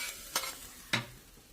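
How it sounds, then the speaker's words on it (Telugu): Tempering for dal curry sizzles in hot oil, a low steady crackle broken by two sharp stirring scrapes, heard close with nobody talking. "పప్పు అయితే తాలింపు పెట్టేశాను"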